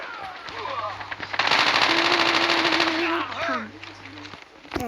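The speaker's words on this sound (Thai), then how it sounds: "ใครยิงใครยิง" Rapid automatic gunfire bursts from a video game, loud and close, running in a long sustained stretch with game effects and a voice talking over it.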